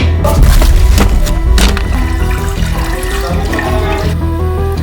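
Water being poured loudly at a house where cobras were found, a continuous heavy gushing splash with clattering and knocking mixed in, close and unbroken throughout.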